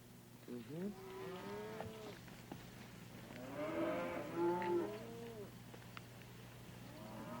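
Cows of a hardy, long-acclimatized rural breed moo a few times, long drawn-out lowing calls at moderate distance over a quiet steady background hum.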